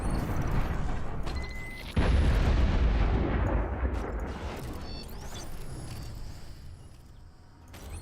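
Heavy artillery booms from the Juno unit in a strategy video game, a loud deep blast at about two seconds rolling into a long rumbling decay, with mechanical creaks and tonal game effects around it.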